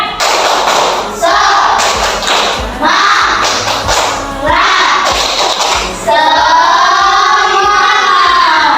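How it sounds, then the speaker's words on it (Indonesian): Classroom of pupils doing a rhythmic tepuk semangat clap chant in Indonesia, with steady thudding hand claps under loud group voices chanting along, ending in a sustained sung phrase. "Tepuk semangat."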